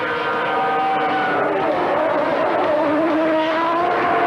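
A 1993 Williams Renault Formula One race car with its RS5 engine screams past at high revs, a loud rising and falling whine with pitch sweeps as it shifts, heard alone without speech.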